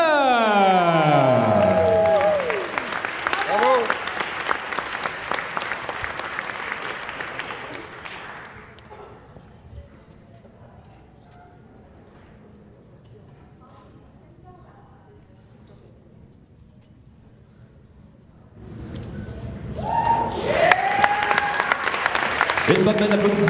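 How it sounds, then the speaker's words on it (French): An arena crowd at a Quebec Games Olympic boxing event applauds a medal winner, with clapping and cheers mixed with loud talk and music at the start, a long quieter hush in the middle, then clapping and voices rising again. "Une bonne main d'applaudissements pour Tania."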